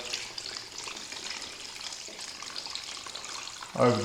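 Brine slowly poured over bacon cuts in a container, a continuous gentle trickle and splash of liquid, ending in a brief louder slosh.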